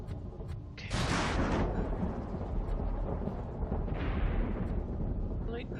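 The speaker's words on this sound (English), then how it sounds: "Lightning strikes." A lightning strike in the colony-building video game Planetbase sets off a loud, sustained rumbling thunder crash lasting several seconds, with a second swell partway through.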